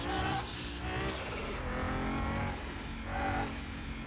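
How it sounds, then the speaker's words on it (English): Nissan GTR in Car Mechanic Simulator 2021, its game engine roaring hard through a launch with a synthetic-sounding turbo flutter, loud and continuous with rising surges across the run. "I think they got the turbo flutter noise from a spaceship game"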